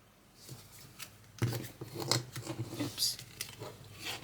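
Hanson-Roberts tarot cards being shuffled by hand, a close series of soft papery riffles and slaps with brief quiet gaps, and the cards fumbled once near the end.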